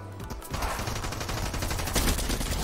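A weapon in the video game Fortnite fires a rapid, dense burst of gunfire that continues without a break and stays fairly loud from start to finish.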